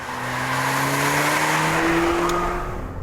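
A 355-horsepower Mercedes A45 AMG is driven hard on a race track, its engine note climbing steadily under acceleration, loud and close, with a faint tire squeal and no talking.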